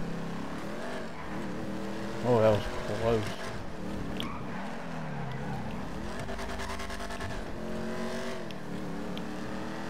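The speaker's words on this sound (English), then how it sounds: "I like the way this car sounds" Armored Duke O'Death muscle car in Grand Theft Auto 5, its engine droning steadily with shifting revs and a tire scrub, running under a man's close, excited talk throughout.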